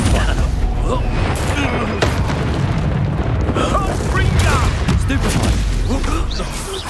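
A Stupefy spell fires in the game Hogwarts Legacy, a sharp magical burst with booming impacts layered over a dense wash of combat effects and game music.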